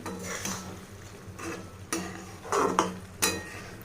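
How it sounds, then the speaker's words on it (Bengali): Chana dal and potato curry is stirred in a pot, with scraping spoon strokes and clinks against the metal coming in several separate bursts, moderately close, and no talking. "আমি এটাকে ভালো করে মিশিয়ে নিলাম।"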